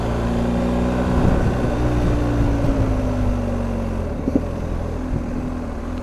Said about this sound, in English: that Acroprovic exhaust, optional extra, but sounds really good, given its occasional pop